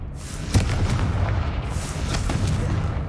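A Confringo fire spell blasts in a wizarding video game, landing as a deep boom with a rumbling tail and a second, softer explosive thud a couple of seconds later.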